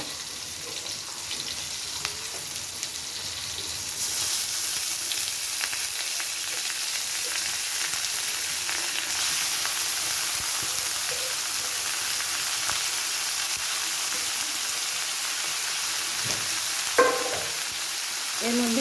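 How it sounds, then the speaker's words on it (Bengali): Onions and other ingredients for a hilsa and water lily curry sizzle in a pan in a continuous, even hiss that grows stronger after a few seconds, with a brief stir near the end. "উপকরণগুলো হালকা ভাজা হয়ে গিয়েছে এখন আমি শাপলা অ্যাড করবো"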